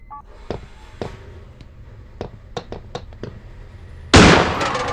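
Sharp gunshot cracks ring out from the horror video game Granny, several distinct bangs spaced unevenly, followed by a louder burst of noisy crash near the end.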